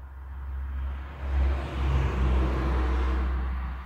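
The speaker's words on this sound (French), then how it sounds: "désolé pour le bruit des voitures, on ne va pas en tenir compte" Cars pass outside a building, a low droning rumble that swells and fades as vehicles go by, steady and moderately faint with no talking.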